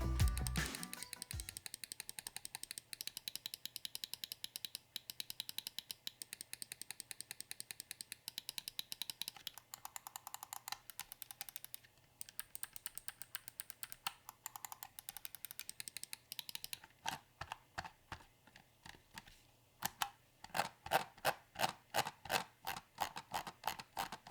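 Rapid, crisp clicks of a Turtle Beach Kone II computer mouse button, tapped in quick bursts and steady runs, close and fairly quiet, with no talking.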